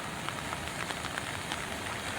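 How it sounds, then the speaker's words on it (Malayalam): Heavy rain pours down in Kakkanad, Ernakulam, a dense, even hiss of drops on surfaces that continues without a break over a couple of seconds. "അതിശക്തമായ മഴയാണ് കാക്കനാട് ഭാഗത്തുണ്ടായത്"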